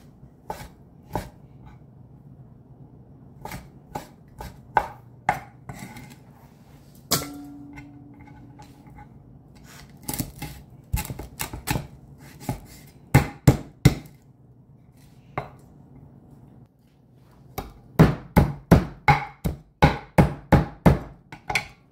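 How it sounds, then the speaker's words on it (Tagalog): Sharp cleaver chops on a board as roast pork lechon is cut into small pieces for sisig, in irregular bursts of loud, close knocks with short pauses between runs and a faster steady series near the end. "Ayan, ang ating lechon ay magiging sisig. Sisig lechon. So, ayan, hihiwain lang siya ng maliliit."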